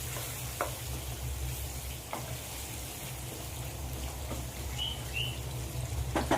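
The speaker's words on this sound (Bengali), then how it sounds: "এবার মাংসটা আমি এভাবে কষিয়ে কষিয়ে করে নেব।" Marinated chicken is stir-fried for curry, giving a soft continuous sizzle under a low hum, with a few sharp spatula scrapes against the pan and faint chirps in the background.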